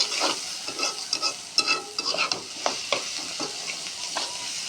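A pan sizzles and crackles steadily, with scattered sharper spits and pops as liquid hits the hot oil, close by and fairly loud.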